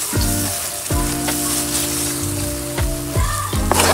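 Garlic chicken with oyster sauce frying and being stirred in a pan, a steady loud sizzle broken by repeated scraping strokes of the spatula, with no talking.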